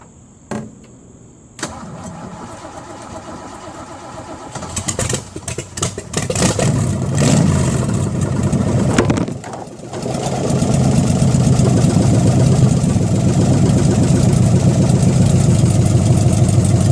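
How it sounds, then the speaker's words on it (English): An old trackjeep engine with a newly installed fuel pump cranks over, catches after a few seconds of uneven sputtering and revving, then settles into a steady, loud, close-up idle with no talking. "First start attempt with a new fuel pump."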